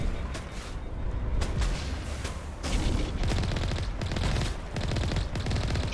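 Vehicle-mounted gun in Mass Effect fires repeated short bursts of rapid shots with brief pauses between them, loud and close, during vehicle combat with no talking.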